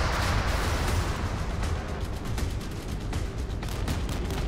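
Rockets launching in rapid succession from a warship in the naval combat game Modern Warships, a dense, continuous roar of booming blasts with no pauses and no talk.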